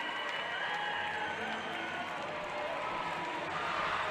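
A high school girls' basketball student section cheers and applauds after a 2A championship win at the Sevier Valley Center, a steady wash of crowd roar and clapping filling the arena for several seconds.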